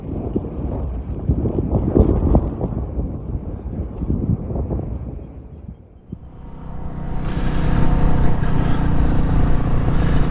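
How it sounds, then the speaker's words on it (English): Wind roars against the microphone during a motorcycle ride, a loud buffeting rumble that eases briefly midway and then surges back louder and brighter as speed builds. "It's a little windy today"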